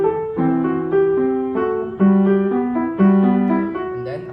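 Chords on a Genos keyboard step through a short progression into a coda, shifting upward in a rising key change, played steadily and clearly with no voices.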